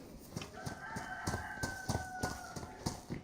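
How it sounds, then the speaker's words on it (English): Distant chickens in the video game DayZ: a rooster crows in a drawn-out call over a soft background of repeated faint taps, quiet and far off, with no talking. "See, you can hear the chickens off at a distance."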